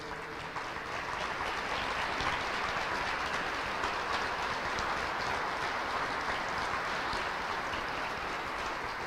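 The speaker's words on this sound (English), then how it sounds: "Let's give them a round of applause, all the ownership group." An audience applauding a Kentucky Derby winner's ownership group at a celebration with the governor, a steady, fairly distant wash of clapping that continues evenly throughout.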